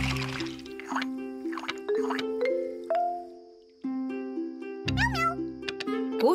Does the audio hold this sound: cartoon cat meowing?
yes